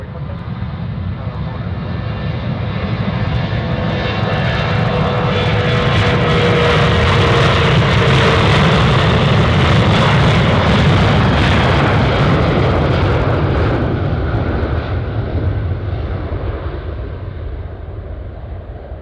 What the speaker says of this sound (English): Alaska, first up to take off. Heading to Dillingham.